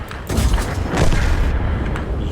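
A deep, booming cannon shot from the 14TP, a Polish light tank in a tank video game, heard as a loud, close rumble that swells and lingers over the whole moment with steady battle noise underneath.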